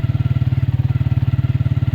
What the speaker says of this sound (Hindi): बाइक मैं 10, 15, 20 पे लेके जा रहा हूँ